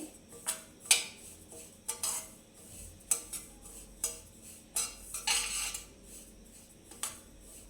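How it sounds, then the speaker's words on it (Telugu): Semolina roasting in a pan for upma, stirred with a metal spoon that scrapes and clinks against the pan in irregular bursts, close and fairly quiet, with no talking. "మనం ఎప్పుడైనా ఇలా మధ్య మధ్యలో కలుపుతూ వేయించుకోవాలి"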